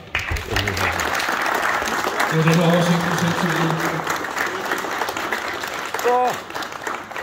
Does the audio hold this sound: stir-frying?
no